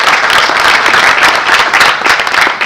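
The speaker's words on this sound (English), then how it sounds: "They all deserve a good round of applause." An audience applauding at a corporate event, a loud, close burst of many people clapping, dense and slightly uneven in intensity, continuing throughout without speech.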